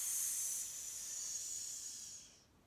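A person's voice imitates a long snake hiss, one faint, steady, breathy sss sound held for over two seconds before it fades out.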